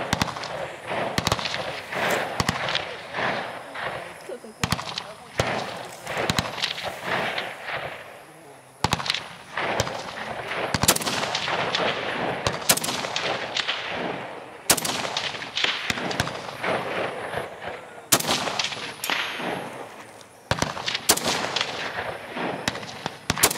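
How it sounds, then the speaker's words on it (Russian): Gunfire at a shooting practice near the front in Ukraine: sharp, loud shots crack out singly and in quick bursts at irregular intervals throughout, close by, with faint voices underneath. "И сегодня мы сюда приехали просто поучиться стрелять."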